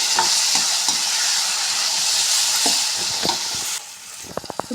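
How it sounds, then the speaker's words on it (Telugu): Samosa filling with turmeric fries and is stirred in a pan, a continuous sizzle punctuated by repeated scraping strokes of the spoon, with a few sharper clinks near the end and no talking. "ఇప్పుడు ఒకసారి కలుపుకున్నాం ఇవన్నీ మిక్స్ అయ్యేలాగా కలుపుకొని వేగనిద్దాము"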